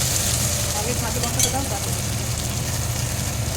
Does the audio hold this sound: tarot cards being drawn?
no